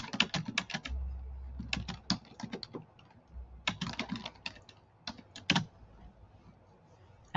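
Irregular bursts of computer keyboard typing, quick clusters of key clicks separated by short pauses, close and moderately quiet, with no talking.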